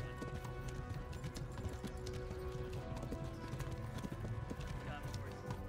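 Steady, rapid hoofbeats of a galloping horse in the video game Kingdom Come: Deliverance drum on without pause, fairly quiet, with voices murmuring underneath.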